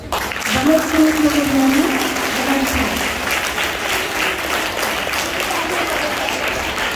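An audience applauds after a Teacher's Day speech, with loud, steady, close clapping that fills the whole stretch without letting up. A voice is briefly heard near the start.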